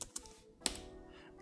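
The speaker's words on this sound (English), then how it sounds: "I'll go back and type sudo evil limiter" Quiet keystrokes on a computer keyboard as a command is typed into a Linux console, just a few scattered taps with one sharper click, faint and close, with no talk.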